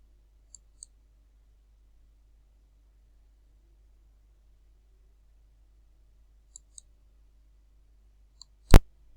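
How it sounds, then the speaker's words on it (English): A computer mouse clicks in quiet, widely spaced pairs of faint sharp taps against near silence, ending with one louder, abrupt click-like pop. "You just click on copy here"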